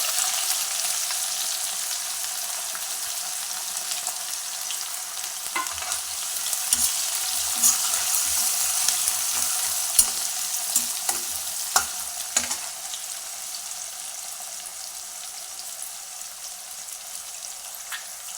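Onions fry in oil with cumin, mustard seeds and dried red chillies for a tomato curry, a steady close sizzle running throughout with occasional stirring clicks and scrapes of a spoon against the pan.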